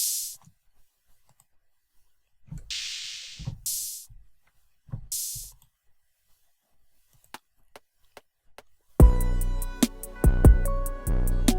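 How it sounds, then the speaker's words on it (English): Open hi-hat sample played in a Reason drum sequencer, several bright sustained hiss bursts with clicks in between, followed by a full beat pattern with repeated sharp hits. "Then I'm going to add an open hat."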